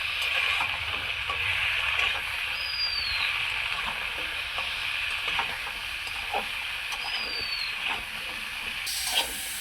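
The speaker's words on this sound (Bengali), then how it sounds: "ভালোভাবে ডাঁটাগুলোকে এখন ভেজে নেব।" Vegetable stems seasoned with salt and turmeric frying in a pan for masoor dal: a steady hiss of hot oil with light ticks and occasional stirring taps, no voices.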